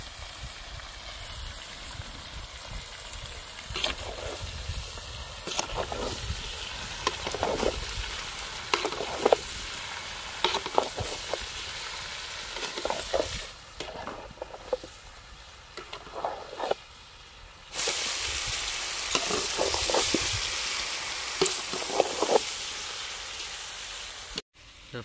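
Pork belly frying in a pan in a village outdoor kitchen, a steady sizzle and crackle that rises and falls with intermittent stirring, growing louder and brighter toward the end.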